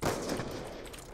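A sniper rifle shot from the video game Call of Duty: Black Ops 2, a loud blast at the start followed by a sustained rumbling decay with no speech over it.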